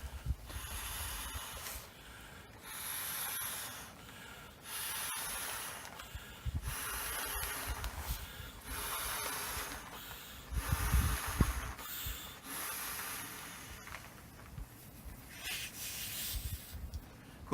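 A sleeping pad being blown up by mouth through a small valve at its top, giving a series of about eight steady, breathy puffs of air, each lasting a second or so and separated by short pauses.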